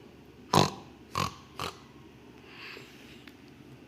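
A pig on a farm gives three short, fairly loud grunting snorts in quick succession, then fainter snuffling against a quiet background.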